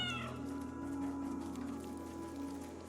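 A cat meows in the PS5 video game Stray, one drawn-out, fairly loud call over a steady droning game ambience and soft rain-like hiss, with no one talking.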